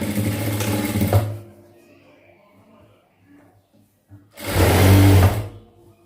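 A sewing machine stitches a folded half-inch hem on a churidar in two loud, close bursts of fast whirring, separated by a quiet pause with faint handling noises.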